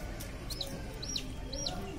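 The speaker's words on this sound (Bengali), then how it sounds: "গুড্ডুর খুব মন খারাপ করে এখান থেকে নড়ছে না, ওই মুরগির বাচ্চাটা নিয়ে এখানে বসে আছে" A hen clucks near her chick. Three high, short peeping calls come about half a second apart over a steady low rumble of background noise.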